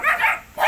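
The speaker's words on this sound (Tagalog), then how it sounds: "Dami mong aso." Dogs at a lone house on a mountain give two quick, loud, close barks separated by a brief pause.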